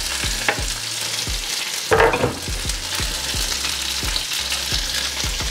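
Chopped big onion frying in a pan for Tamil-style fish curry: steady loud sizzle with repeated scraping stir strokes and a brief burst of hissing partway through, no voices.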